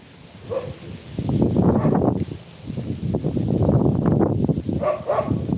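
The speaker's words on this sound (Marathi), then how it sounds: "कुत्रे भुकू राहिले रे भो" Dogs bark in rough, repeated bursts, some sharp yelps among them, over a noisy rustling background.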